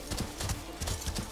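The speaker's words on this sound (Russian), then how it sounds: "лошадь идет на месте" Horse hooves clip-clop steadily in a medieval game during a trade convoy event, a quick even rhythm of muffled thuds close by, with no voices over them.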